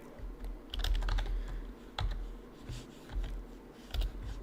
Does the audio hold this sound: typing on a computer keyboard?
yes